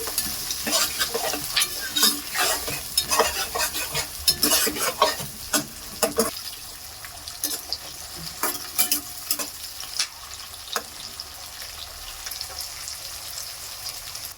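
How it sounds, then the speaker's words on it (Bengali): Chopped onion and capsicum stir-fried in a pan for chilli chicken, with a steady sizzle under repeated close scraping and clinking stirs that thin out toward the end. "পেঁয়াজ কুচনো, ক্যাপসিকাম কুচনো, এগুলো একটু ভেজে নেবো অল্প করে"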